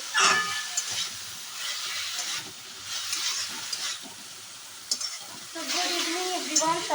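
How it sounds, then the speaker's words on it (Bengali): Sajne (drumstick) greens frying in a pan: a soft, quiet sizzle broken by intermittent scraping stirs, with a voice coming in toward the end. "এদিকে সজনি শাকটা একটু ভেজে নেবো"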